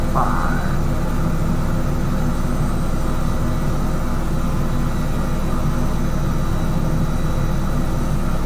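Airplane engine on final approach to runway 15 in a flight simulator, a loud, steady low rumble and whine with constant broadband roar throughout, plus a brief higher tone at the start.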